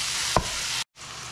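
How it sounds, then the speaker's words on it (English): Ground meat browns in a pan, a steady close frying sizzle with a single brief stir or clink, then a short drop to silence before the hiss returns. "with getting the meat in the pan. We're gonna start browning that up."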